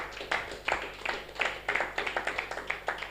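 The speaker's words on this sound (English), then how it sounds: "Give yourself a round of applause." A small group claps, steady light applause with distinct individual claps, moderately distant and not very loud.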